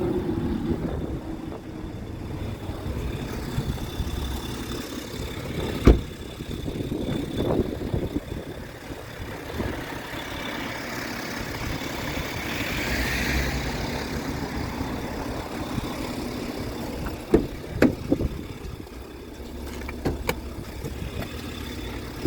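A BMW X5 E70 with a 3.0-litre 305 hp diesel engine idles steadily and smoothly for a long stretch, a low even rumble with a few brief clicks and knocks nearby.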